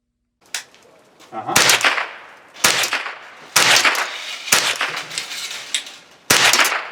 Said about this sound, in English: So why don't we take it out to the range and see how they shoot?